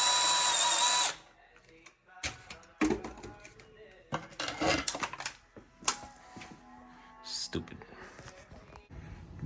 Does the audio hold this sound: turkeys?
no